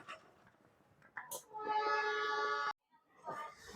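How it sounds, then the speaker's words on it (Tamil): A Vasco passenger express train starting off sounds a horn blast lasting about a second, with scattered voices and station noise before and after. "நம்ம ட்ரெயின் ஸ்டார்ட் பண்ணிட்டாங்க."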